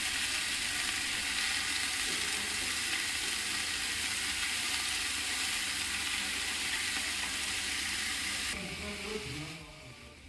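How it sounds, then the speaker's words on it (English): Chopped onions sizzle and fry in hot oil in a pan for a rajma masala, a loud, dense and steady hiss that is close, then fades near the end, with no talk. "Hear that sexy sizzle?"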